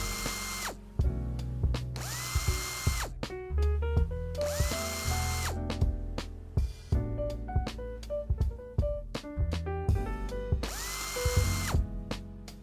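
Power drill driving out center console screws and armrest bolts in a 2019-or-later Hyundai Veloster Turbo, with repeated close whirring bursts of rising pitch separated by short pauses and ratcheting clicks.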